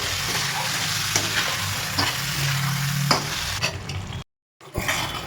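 Meat fries with coriander powder and salt in a pan, a loud, close, continuous sizzle layered with steady stirring scrapes, briefly cutting out near the end before resuming.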